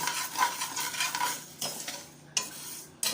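Raw rice grains dry-roasting in a pan while being stirred, a close, dry rustling scrape in uneven strokes, with a couple of sharp utensil knocks near the end.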